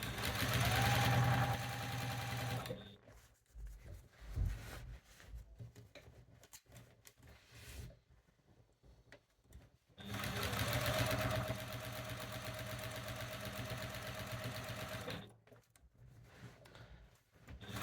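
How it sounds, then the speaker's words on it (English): A sewing machine quilts a quilt with a rapid mechanical whir. It runs in two long stretches, and between them come quieter pauses of handling and fabric shuffling. "There's a lot of stopping and starting when you're quilting, but it's just to make sure that the backing doesn't hunch up."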